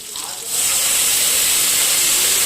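A prepared paste dropped into a hot pan for kadai paneer bursts into a loud, steady steamy hiss and sizzle close by after a quieter start.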